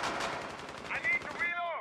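Rapid automatic gunfire in a PUBG or Rainbow Six Siege match, a dense burst of loud close shots in quick succession, followed by brief clinking game effects.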